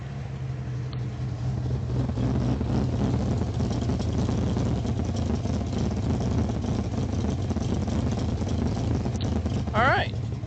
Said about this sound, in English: put the mic closer for you so you can actually hear the exhaust